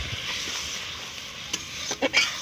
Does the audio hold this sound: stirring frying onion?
yes